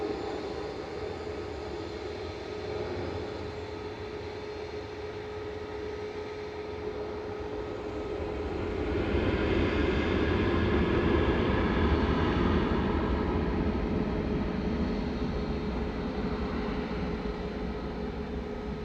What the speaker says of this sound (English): Next goes KLM to Amsterdam. So 737-800 PHBGB, flight 1028.